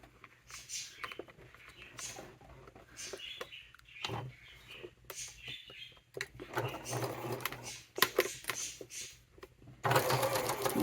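Sewing machine stitching small wallet attachers in short irregular bursts of rapid mechanical clatter, fairly quiet, with pauses and some handling noise between runs and a louder burst at the end.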